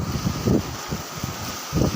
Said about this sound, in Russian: Погодка сегодня вроде бы и ничего, но ветер просто ужасный.